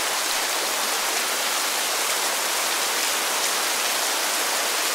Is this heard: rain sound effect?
yes